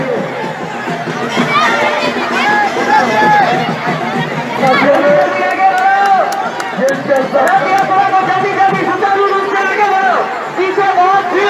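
A dense crowd bustles through a narrow lane during a Sitala Puja procession, with constant overlapping chatter, shouts and children's voices close by and no pauses.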